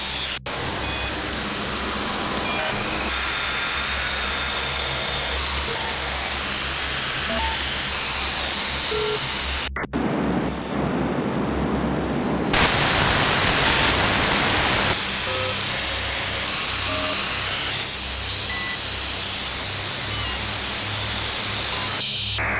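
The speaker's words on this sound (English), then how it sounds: "The endless buzzing of white noise permeates everything." Shortwave radio static and white noise hiss loudly and steadily throughout, with bursts of tonal interference and a brief dropout, then a denser band of noise before the buzzing wash returns.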